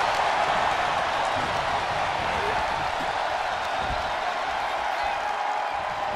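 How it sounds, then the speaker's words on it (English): Video game arena crowd during a WWE 2K24 Royal Rumble match, a dense steady roar of cheering and chanting with no distinct pauses, moderately loud throughout. "Listen to this crowd count the next one in."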